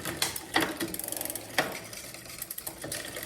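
Clicking and ratcheting of a Shimano rear derailleur being shifted on a 2004 Klein Aura X road bike, a few sharp mechanical clicks over a faint whirring background, close and moderately quiet.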